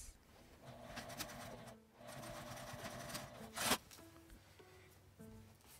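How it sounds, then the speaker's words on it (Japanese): A sewing machine stitches an accordion-style fabric card case in two running bursts separated by a pause. A short loud rustle of handled material follows, then softer intermittent stitching. "この印から印まで3センチ分だけ縫い付けます"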